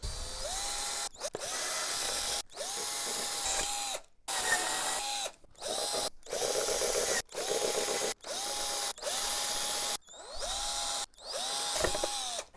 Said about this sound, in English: I'm gonna drill holes on both sides of the PVC